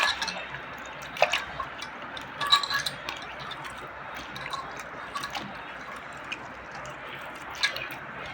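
Food is squished and mixed by hand, giving soft wet squelches and small clinks that repeat irregularly at close range, fairly quiet, with no talking.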